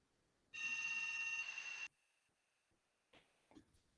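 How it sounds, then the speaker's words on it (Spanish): A landline telephone in a house rings once in a long, steady electronic trill, then falls silent, leaving faint clicks and rustles. "Estoy en una casa con un teléfono fijo y no para de sonar el teléfono por las elecciones"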